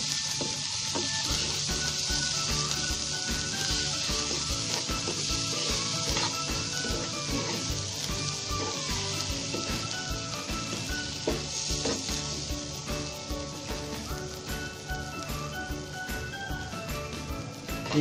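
Sweet pumpkin peels frying in a pan over low flame give a continuous soft sizzle, with stirring clatter and scraping mixed in across the whole stretch; quiet, close and without talk.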